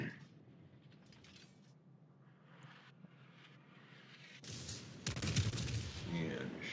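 Naval artillery salvo from the battleship Wyoming in World of Warships, a sudden loud burst of gunfire crashing in near the end after quieter game ambience and distant rumble.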